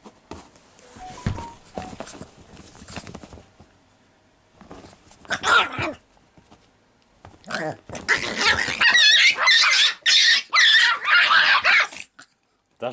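A small dog barks and yips in rapid high-pitched bursts, close by, with some whimpering and a few murmured voices earlier.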